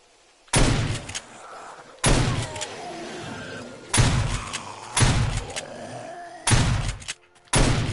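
AK rifle fire in the video game 7 Days to Die, about six sharp, loud shots or short bursts spaced a second or two apart, each followed by a lingering ringing tail.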